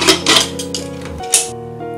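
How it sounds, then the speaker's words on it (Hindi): A metal pressure cooker lid fitted shut over dal, a few close, sharp metallic clanks and scrapes followed by brief ringing. "कुकर को बंद करेंगे"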